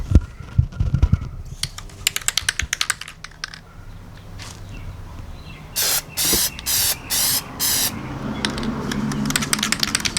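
An aerosol can sprays black paint onto tail light bezels in five short even hissing bursts, close and clear, between clicks and handling noise.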